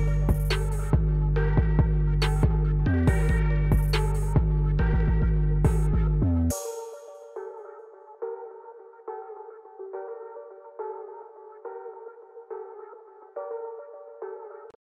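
A beat made in FL Studio plays with punchy, bright drums and a sample, then switches abruptly to a muted, thinner sound with soft, steady pulses.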